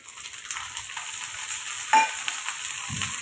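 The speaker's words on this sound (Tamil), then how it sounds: "எண்ணெய் காஞ்சதும் இப்போ நமக்கு இதில் சின்ன வெங்காயம் கொஞ்சம், பூண்டு, இஞ்சி எடுத்துருக்கேன், அதையும் சேர்த்துக்கோங்க" Shallots, garlic and ginger hit hot oil in a pan for egg kurma, giving a continuous close hissing sizzle with a brief scrape of stirring partway through.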